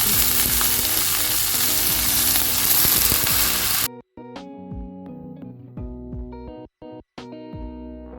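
Whole small fenugreek leaves frying in a pan: dense loud sizzle for about four seconds, then it cuts to quieter scraping and stirring with short gaps.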